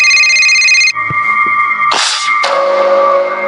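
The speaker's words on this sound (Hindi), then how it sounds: "उसके मोबाइल की रिंग बजने लगी।" A mobile phone ringtone plays loudly and continuously, a bright electronic melody with sustained tones that shift pitch partway through, heard alone with no talking.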